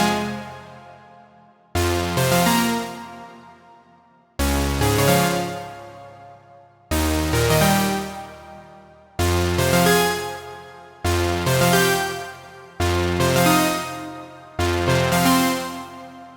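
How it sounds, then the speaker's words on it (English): Big melodic techno synth lead, the Lead Epilogue preset, strikes eight loud sustained chord hits that each decay before the next, rich and wide, with no talking. "Lead Epilogue is a really big one,"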